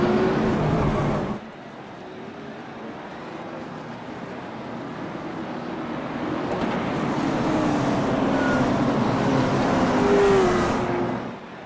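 Late model race cars roar around the track at Bristol. The engine noise is a continuous, fairly loud drone that dips briefly, then builds as the cars swell past, with no talking.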